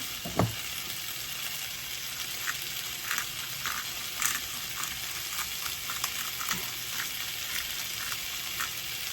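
Half a can of chickpeas frying in a pan: a steady, dense sizzle and crackle runs throughout, with a few soft knocks and spoon touches, close by and with no voices.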